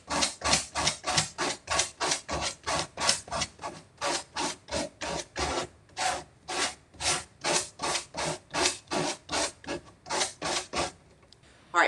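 Hand sanding of fabric edges on decoupaged furniture, repeated rhythmic rasping strokes, roughly two per second, close and clear with no talking.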